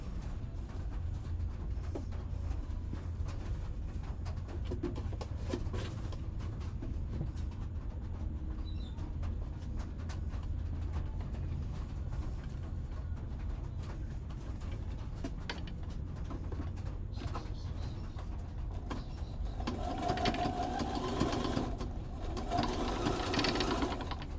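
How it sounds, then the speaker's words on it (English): A sewing machine runs steadily while stitching down a fabric journal cover, a continuous low mechanical hum lasting the whole stretch and growing a bit louder and busier toward the end. "So I'll just sew down there."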